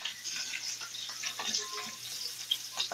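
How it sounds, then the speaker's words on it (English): Steak sizzles and crackles in a hot pan, a soft continuous frying hiss with scattered pops and spits. "Hear that sizzle?"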